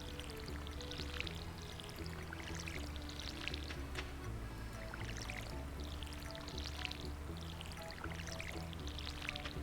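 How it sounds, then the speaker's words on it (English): Watering crops in the farming game Stardew Valley, with repeated splashing pour effects sounding in a regular rhythm over looping background game music, and no talking. "Now we can water these guys."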